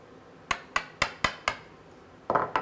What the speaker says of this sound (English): All I'm doing for the moment is just chipping out that short grain.